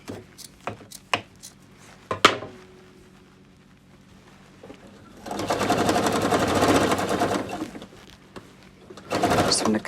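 A sewing machine stitches along cushion piping in a steady burst of fast, rattling needle strokes that runs several seconds, then stops. A shorter run follows after a pause of quiet handling clicks and bumps.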